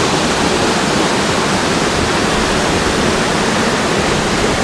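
Cascata da Ferradura, a tall waterfall near Candelária in Rio Grande do Sul, Brazil, roars as a steady, loud, dense rush of falling water with no pause and no voices.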